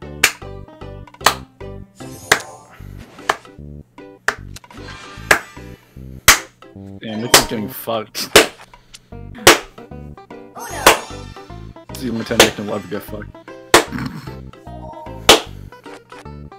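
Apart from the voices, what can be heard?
person clapping hands, slow then vigorous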